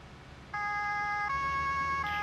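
Electronic police car siren from the Autobahn Police Simulator 3 video game switches on abruptly and wails in a steady loud tone, shifting pitch once or twice over a faint low engine hum.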